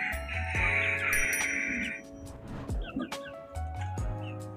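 Four-month-old chicks and chickens cluck and chirp near a coop, giving a few short calls and a longer squawk in the first seconds amid intermittent low background noise.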